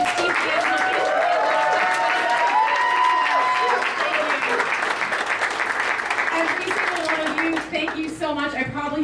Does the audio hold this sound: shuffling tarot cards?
no